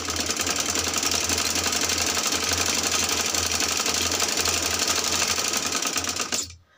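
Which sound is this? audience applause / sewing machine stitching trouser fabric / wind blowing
sewing machine stitching trouser fabric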